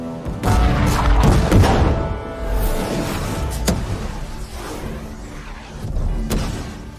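Cannon fire in a battle scene from an Indian historical film, with heavy booms and thuds among a dense, loud din of battle noise and a rumbling orchestral score.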